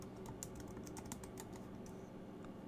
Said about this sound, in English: we're going to go ahead and type in our email address